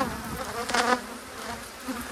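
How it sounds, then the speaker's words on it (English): Honeybees from a large hive buzz close around the camera in a dense, droning hum that rises to a louder pass in the middle before it settles. No one speaks. "we can see them crawling all over the camera here."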